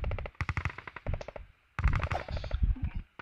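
Rapid bursts of automatic gunfire from the video game Hand Simulator, loud and close, in two volleys separated by a brief pause, the second trailing into scattered shots.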